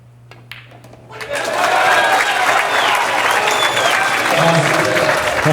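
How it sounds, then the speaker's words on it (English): After a near-silent moment, a crowd at a 9-ball pool final breaks into applause as the ball drops, rising quickly and holding as a full, steady ovation with a voice faintly underneath. "you're going to hear some applause after this 9 goes down"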